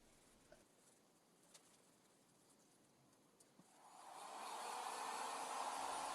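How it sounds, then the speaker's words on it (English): A paint stripping heat gun, used with clear plastic packaging over a scrap-wood former to shape light covers for an RC Douglas DC3 Dakota model, switches on partway through with a steady, close, rushing blower hiss that continues to the end. "here we are using a paint stripping gun and some clear plastic packaging to make the light covers"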